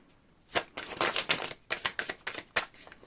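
Tarot cards being shuffled by hand, a quick run of crisp riffling and slapping bursts, close and fairly quiet, with no talking.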